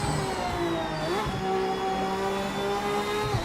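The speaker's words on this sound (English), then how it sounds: "The exhaust, it's the exhaust note or the engine sound, everything is higher pitched," Race car engine in the Project Motor Racing video game, a continuous high-pitched exhaust note holding steady with small pitch shifts as the throttle varies, loud and close with no talk.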